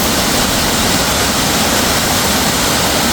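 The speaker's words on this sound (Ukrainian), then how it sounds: "Ось уже, власне, той самий Наринецький водоспад" The Narynetskyi waterfall in the Carpathians cascades over compacted sandstone ledges. Its loud, close, unbroken roar of rushing water fills the whole span with no voices.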